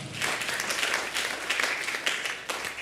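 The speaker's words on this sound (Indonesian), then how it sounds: "Tepuk tangan buat Tuhan." A church congregation at a Sunday morning worship service applauding, steady dense clapping at moderate level with a slight swell and fade, no speech over it.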